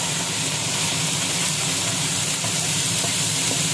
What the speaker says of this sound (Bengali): আমি সবজিটাকে আগে ভালো মতো ভেজে নেব